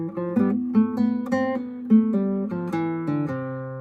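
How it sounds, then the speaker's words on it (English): A short run of swung eighth notes from a song plays in a bouncy long-short rhythm, the melody ringing clearly on its own with no talking. "Swung eighth notes sound like this."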